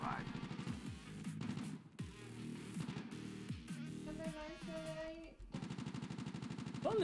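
Rapid bursts of video game gunfire crackle in quick succession, overlapping a busy mix of game effects and music, with shots fairly loud and close throughout.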